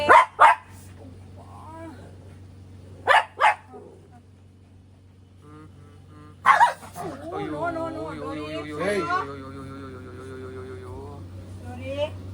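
Dogs barking and squabbling: a few sharp, close barks in short bursts, then a stretch of whining, yelping and whimpering, with a person's voice mixed in.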